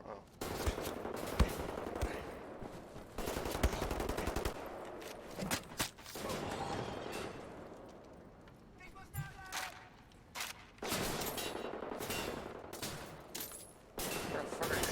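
Bursts of automatic gunfire and scattered shots crackle through a firefight in the video game Wolfenstein: The New Order, loud and repeated, with a voice speaking between the volleys.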